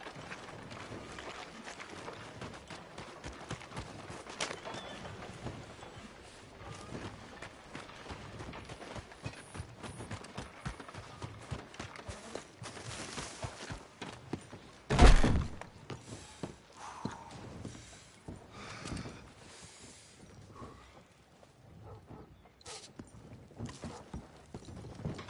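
Horses' hooves clip-clop in Red Dead Redemption 2, a quick, uneven patter of hoofbeats at moderate distance with one loud thump midway, alongside faint mechanical clatter and brief talk.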